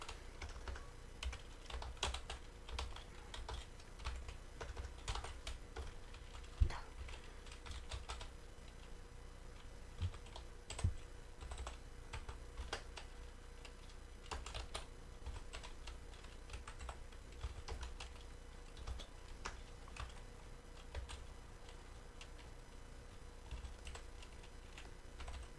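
Someone types into an Excel spreadsheet on a computer keyboard, a steady run of quiet, close key clicks with occasional louder taps and no talking.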